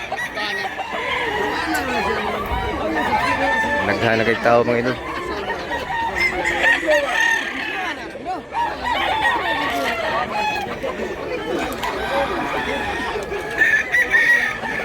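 Roosters and chickens for sale at a busy livestock market in Mantalongon, Barili, Cebu crow and cluck continuously, many birds at once, under a dense crowd of talking voices.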